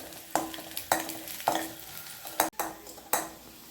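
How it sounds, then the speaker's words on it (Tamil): Garlic sautés in a little sesame oil for a Tamil lentil-powder recipe, with a soft steady sizzle punctuated by six sharp, evenly spaced scrapes of a spoon stirring the pan. "இது பூண்டு வதங்குறதுக்கு மட்டும் லைட்டாக நல்லெண்ணெய் ஊற்றிருக்கேன்"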